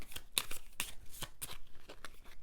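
Playing cards for the Middara board game are shuffled by hand, a series of close, crisp riffling snaps and soft slides in an uneven rhythm, quiet and without talking.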